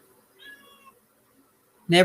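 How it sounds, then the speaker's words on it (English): A cat gives a short, drawn-out meow at moderate distance while trying to get in through a door, followed after a pause by a sudden loud burst of noise. "If you hear that noise, that is my cat and he trying to get in here"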